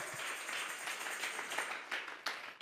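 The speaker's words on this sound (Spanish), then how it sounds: "vamos a darle ofrenda de palmas al Dios de la gloria" A church congregation claps hands together as an offering of praise, a dense ragged patter of many claps building in bursts, moderately loud and slightly distant, with no talk.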